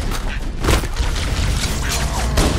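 Grenade explosions in co-op play of Halo: Combat Evolved Anniversary, a dense run of booming blasts and thuds with crackling debris filling the whole stretch, loud and continuous with little letup.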